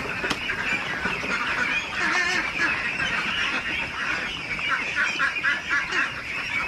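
Dense, continuous chorus of many ducks quacking and honking together on a duck farm, loud and close throughout with no pause.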